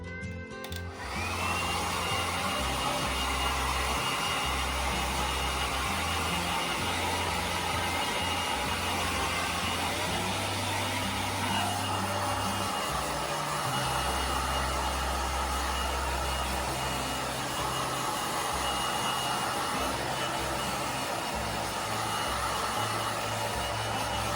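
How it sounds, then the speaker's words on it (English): A Revlon round brush hair dryer roars steadily and loudly for the whole stretch, a constant airy whine with a low motor hum, briefly shifting pitch midway. "So we're gonna start with the dryer."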